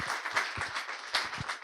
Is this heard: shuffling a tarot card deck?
no